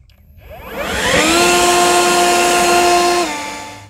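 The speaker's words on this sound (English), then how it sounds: "we're gonna drop a ball in the leaf blower and see how far we can launch it" A WORX 40V cordless leaf blower ramps up to high turbo to launch a dropped ball. Its rising whine holds loud and close for about two seconds, then winds down.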